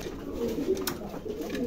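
Andalusian pigeons sitting on eggs in a pigeon loft give soft, low cooing that rolls on steadily at a moderate, close level.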